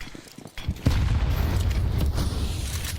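A grenade blast in Counter-Strike on the Anubis map, a deep booming thud after a brief quiet lead-in, followed by a sustained rumbling low roar and scattered mechanical clatter.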